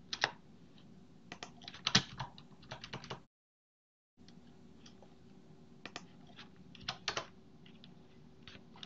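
Typing on a computer keyboard at a desk, with irregular bursts of close, crisp key clicks that stop briefly partway through and then resume, quiet overall with no voices.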